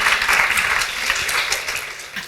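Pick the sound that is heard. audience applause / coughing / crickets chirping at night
audience applause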